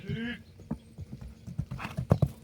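A horse walking in a ring, its hooves thudding and clip-clopping in a series of distinct, fairly close footfalls, with voices talking over them.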